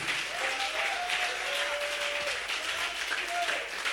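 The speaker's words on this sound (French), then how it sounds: "je voudrais qu'on acclame encore le Seigneur" A church congregation applauds steadily for the whole stretch in a dense, continuous wash of clapping, with voices mixed into the crowd noise.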